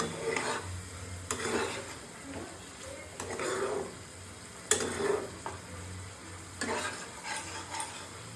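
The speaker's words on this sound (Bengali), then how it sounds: "জল দেব, দিয়ে আর একটু কষিয়ে নেব।" Soya chicken masala being stirred in a pan: a spoon scrapes and clacks against the metal in repeated strokes over a low sizzle, close and moderately loud, with no talking.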